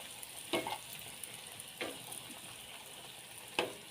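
Bread pieces fry in hot oil with a steady, quiet sizzle throughout, broken by three brief louder crackles or spatters spaced out over a few seconds; no voices.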